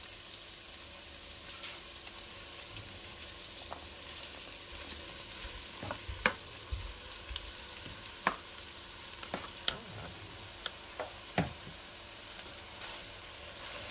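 Cooked rice for restaurant-style mixed fried rice crackles and sizzles softly in a pan over lowered heat, stirred gently. Sharp clicks and scrapes of the ladle against the pan break the steady frying hiss at irregular intervals, with no talking.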